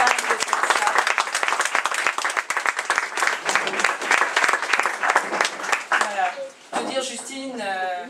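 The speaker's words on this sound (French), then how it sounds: "j'aimerais vraiment qu'on l'applaudisse" An audience at an inauguration in Roubaix claps in a sustained round of applause, then a voice begins speaking as the clapping stops.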